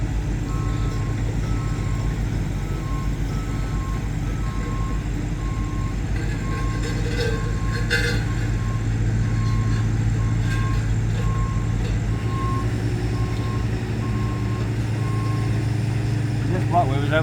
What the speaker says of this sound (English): The machines are just moving now, you can hear them.